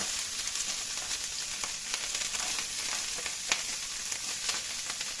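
Carrots sizzle in a hot pan for egg fried rice, a steady, close frying crackle with light stirring scrapes and occasional sharper pops.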